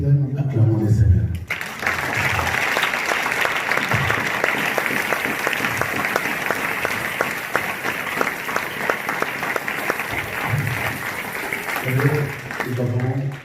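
A church congregation claps together in praise of the Lord, a loud sustained burst of rhythmic applause that fills the room between short stretches of a voice speaking at the start and end.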